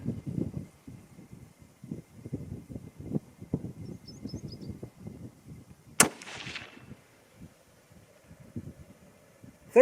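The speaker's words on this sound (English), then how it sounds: "3 shots." Single sharp rifle shot from a Christensen Arms MPR firing 120 grain rounds outdoors, a loud crack with a short echoing tail standing out over low rumbling wind and ambient noise.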